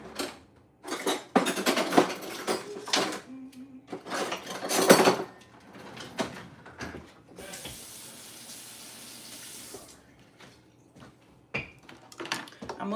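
Kitchen utensils clatter and knock in a series of sharp, close, irregular bangs as someone rummages for a knife, followed by a few seconds of running tap water, then more scattered handling noises, with no talking.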